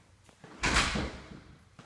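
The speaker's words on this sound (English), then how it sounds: "Front door opens up into a foyer." A front door in a newly built house swings open once, a short rush of movement with a soft knock at the end, near and fairly quiet.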